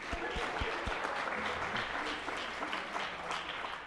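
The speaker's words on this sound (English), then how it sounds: "You can clap, yeah." A school audience at a winter sports awards assembly claps for a four-year letter winner, a steady spread of hand claps at moderate distance, with no voices.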